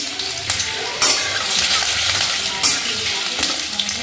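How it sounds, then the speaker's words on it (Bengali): Chopped ginger and garlic sizzle loudly in hot oil for chicken vegetable soup, a continuous close crackle broken by a few sharper bursts as they are stirred. "তেল গরম হলে আমি এর মধ্যে দিয়ে দেবো আদা রসুন কুচি।"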